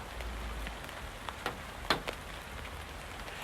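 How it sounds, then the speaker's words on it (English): Steady light rain hisses softly, with a few sharper drips and taps standing out now and then. "it's certainly raining"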